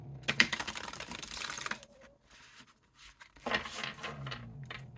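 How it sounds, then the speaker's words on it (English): Rapid, dense riffling of linen-finish tarot cards in two bursts, a crisp flurry of flicking followed by a pause and another quick shuffle, close and fairly loud. "that's like one of those shuffles that is like madly satisfying"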